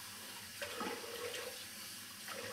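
Cold water runs steadily from a sink tap for washing the face, a constant close hiss and splash with a slight shift partway through, with no voices.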